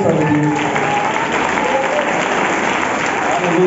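Congregation applause at a Spanish-language church service, a steady, fairly loud wash of many hands clapping throughout, with voices mixed faintly into the crowd noise.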